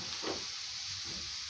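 Frozen tomatoes dropped into hot oil in a pan give off a steady, even sizzle and hiss, close and continuous, with a brief crackling burst near the start.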